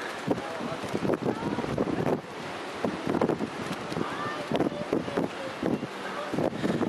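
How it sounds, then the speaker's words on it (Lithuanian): Strong wind buffets the microphone in loud, uneven gusts at a hilltop castle in Sintra, Portugal, with a faint roar like distant surf behind it. "Labai dideli vėjai pučia."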